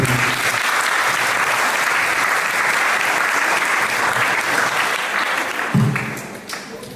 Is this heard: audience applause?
yes